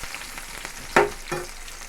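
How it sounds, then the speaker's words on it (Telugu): Chopped onions fry with curry leaves in a pan under a low steady sizzle, with one sharp scrape or clatter of a spoon and a softer second one, close and clear. "తర్వాత ఉల్లిపాయ ముక్కలు వేసుకొని బాగా ఫ్రై చేసుకోవాలి"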